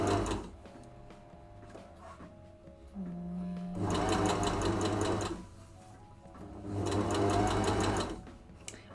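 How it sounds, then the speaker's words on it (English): A sewing machine stitches shorts along a 1 cm seam allowance in two long, steady runs of rapid needle chatter, separated by a quieter pause with a brief low hum, close and loud with no talking. "I'm sewing everything on 1 centimeter of seam allowance"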